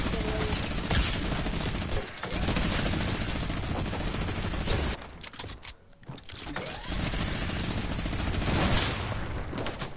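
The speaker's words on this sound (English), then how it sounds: "Oh, they just sniped from behind." Video game gunfire, including sniper shots, fills the scene with loud, continuous bursts of shots and clatter that drop out briefly midway before resuming.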